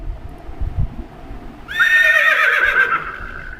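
A horse neigh sound effect from an animal soundboard app rings out loud and close, a single long whinny with a quavering, descending tail, after a brief stretch of low background noise.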